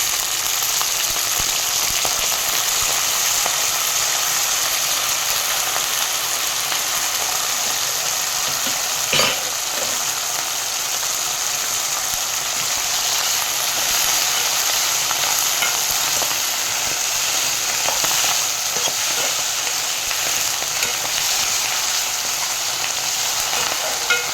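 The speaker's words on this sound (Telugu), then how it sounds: "పచ్చిమిర్చి కూడా వేగిపోయాయి." Green chillies fry steadily in a pan for a tomato and fenugreek chutney, a continuous dense sizzle with occasional stirring scrapes and one sharp clink midway, close and alone with no talk.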